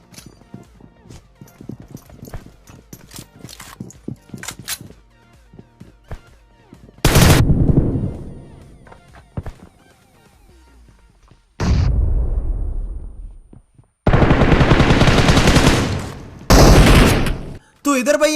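Gunfire in PUBG Mobile: quick, sharp shots at first, then several long, dense bursts of automatic fire, loud and near, with a quiet game background between them.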